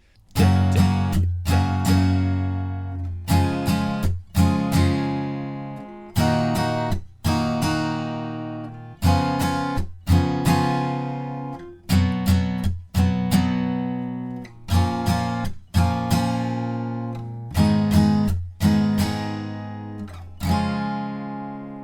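Acoustic guitar chords from the bridge of a song, strummed once each and left to ring out, about a dozen sustained chords in a slow, steady progression with no voice.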